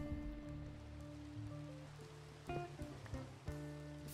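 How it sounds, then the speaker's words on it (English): Rain falls steadily in a Minecraft-style video game, a soft continuous patter heard faintly beneath low tonal game music with a few brief notes. "Rain didn't last long"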